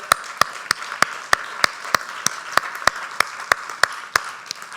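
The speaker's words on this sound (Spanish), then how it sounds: "Denle un aplauso al Señor" Worship service congregation clapping in praise, a steady run of sharp, evenly spaced claps over a softer bed of scattered applause, fairly close and lively throughout.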